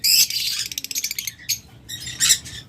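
A lutino Fischer's lovebird gives rapid, high chirps in quick bursts, close and fairly loud, with brief pauses between runs and no voices.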